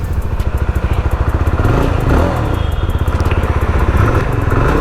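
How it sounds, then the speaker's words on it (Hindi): A Jawa 42 FJ 350 motorcycle idling, its exhaust giving a loud, close, steady thumping putter with rapid regular pulses and a slight clatter, no voices. "कुछ ये एग्जॉस्ट नोट है।"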